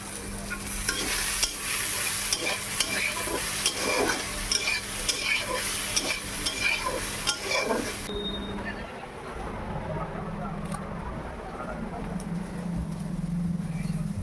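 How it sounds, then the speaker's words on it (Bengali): Soybean chunks frying in oil in a pan, with busy crackling sizzle and repeated scraping stirs for most of the stretch, then the stirring stops and a softer, steadier sizzle continues, close by. "আমি এই যে সয়াবিনগুলো ভেজে নিচ্ছি"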